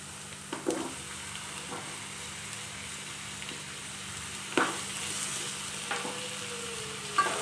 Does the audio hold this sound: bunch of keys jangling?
no